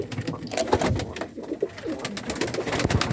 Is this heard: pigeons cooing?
yes